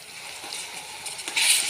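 Tomato paste and golden onions frying in a pan for a chicken kofta curry, a steady soft hiss and sizzle that swells louder near the end, with no talking.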